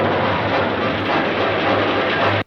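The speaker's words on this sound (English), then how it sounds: "we go down here, we see the train" Train rolling past in the 1957 film The Black Scorpion, a loud, dense, steady rumbling roar with a low hum throughout, cutting off abruptly at the end.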